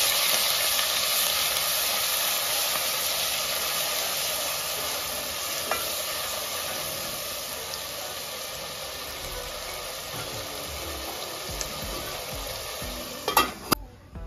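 Two tablespoons of ginger garlic paste fry in hot oil for green chilli chicken, a steady sizzling hiss that slowly softens, with a few sharp clinks of a utensil stirring the pan near the end.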